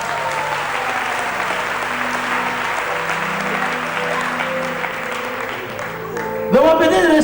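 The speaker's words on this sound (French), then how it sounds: "On acclame le Seigneur." A church congregation applauds and acclaims the Lord in a steady, loud burst of clapping and cheering voices that fills the room, ending in a brief sharper swell of sound.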